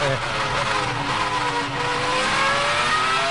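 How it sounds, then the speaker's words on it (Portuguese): A Ferrari Formula 1 engine at the Australian Grand Prix screams at high revs, with rising and falling harmonic whine as the car races past. The engine sound is continuous and loud, and commentary runs over it. "Tá aí matando saudade do som do motor da Ferrari"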